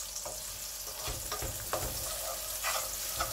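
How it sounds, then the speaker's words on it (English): Shallots hit hot oil in a wok and fry with a steady, close sizzle and crackle, with occasional stirring scrapes and no voices. "Add some shallots into the hot oil."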